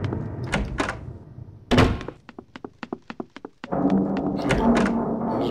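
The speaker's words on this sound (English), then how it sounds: "Break down the door again." In the video game Evil Teddy, a door takes a rapid series of heavy, loud thunks and knocks as it is battered, with rumbling noise before and after the blows.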